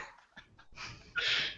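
A person's voice imitating a dog barking: a few short, breathy yelps followed by two louder, harsher bark-like bursts, close and dry.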